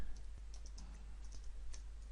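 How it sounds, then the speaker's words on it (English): Faint, quick keystrokes on a computer keyboard during Excel work, tapping in a brisk irregular run over a low steady hum. "I can just start typing"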